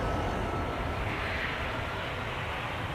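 An airliner departing Amsterdam Schiphol Airport produces a steady, distant broadband jet roar with no distinct peaks, continuous and fairly faint for the whole stretch.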